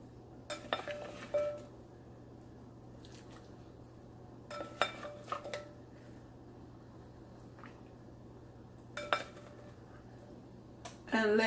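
Washed pumpkin pieces go into a cooking pot for Caribbean pumpkin soup with smoked neck bones. A few quiet clinks and knocks of utensil against pot come in scattered clusters over a low, steady hum.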